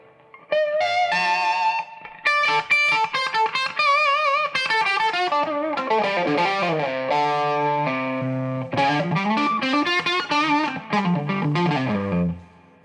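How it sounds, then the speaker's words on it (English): A Les Paul electric guitar fitted with Fishman Fluence Classic humbuckers plays in the middle pickup position with an out-of-phase tone, sounding as a loud, continuous run of sustained distorted notes and chords with a chorus-like shimmer. "in the middle position, I can go up on this tone control and be out of phase"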